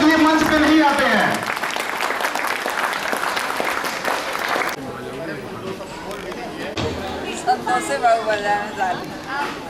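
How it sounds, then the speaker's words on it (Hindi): Audience applause at an Ahibaran Jayanti celebration stage event, a loud burst of crowd clapping that dies down after a few seconds, followed by quieter crowd murmur and voices with scattered claps. "आप सभी के लिए जोरदार तालियां बजाएं जब तक ये मंच पे नहीं आते हैं।"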